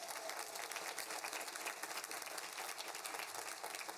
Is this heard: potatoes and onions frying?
no